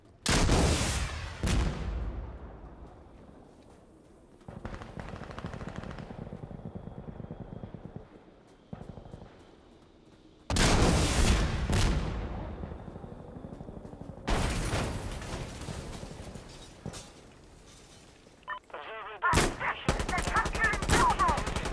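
Gunfire in the video game Insurgency Sandstorm: loud bursts and rapid shots come in separate clusters, with a dull rumbling background between volleys.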